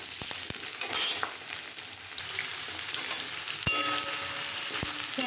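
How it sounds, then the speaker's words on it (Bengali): Potatoes for a soybean potato curry fry in a pan with a steady close sizzle, broken by a few sharp utensil taps and stirring scrapes, with no voices. "আমি আলুটা বেশ সুন্দর করে ভেজে নিলাম"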